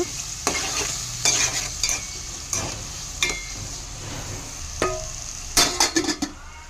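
Chopped onions frying in hot oil in a pan for a brinjal curry, a continuous close sizzle with frequent sharp pops and spatters and a few stirring clinks, no voices.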